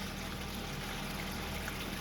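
A garden pond waterfall flows in a steady, dense rush of falling water, close and continuous.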